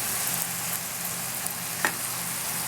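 Tomatoes and peppers for a French pipérade sizzle and simmer in a pan, a continuous loud bubbling hiss with one small pop, no voices.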